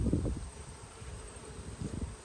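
Honey bees buzz around an open nucleus hive with a thinly populated frame, a faint steady hum with soft low rustling and bumps near the start and end.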